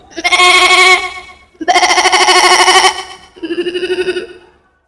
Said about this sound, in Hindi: सबसे पहले ही हमारे साथ है एक मोटा ताज़ा काला बकरा